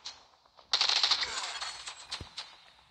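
Rapid automatic gunfire in the mobile shooter The Division Resurgence, a dense crackling burst of shots lasting about two seconds with a few sharper cracks, fairly close and moderately loud.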